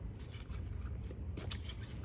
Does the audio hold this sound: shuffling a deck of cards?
yes